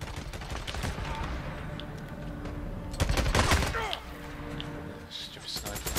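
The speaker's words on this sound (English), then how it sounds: "Stupid sniper." Sniper gunfire in the Days Gone game rings out as a rapid series of sharp cracks and shots, with one heavier burst near the middle, over continuous game ambience while a person talks briefly.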